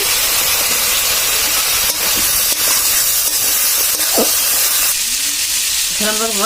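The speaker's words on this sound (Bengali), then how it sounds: "এখন একটু হালকা ভেজে নিচ্ছি জল দিয়ে" Tilapia and taki fish fry lightly in a pan with a splash of water, giving a steady, loud sizzling hiss throughout, with small clinks and stirring near the end.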